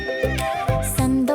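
A horse from a children's farm animals song neighs in a loud, close whinny with several rising and falling cries across the moment, with no talk.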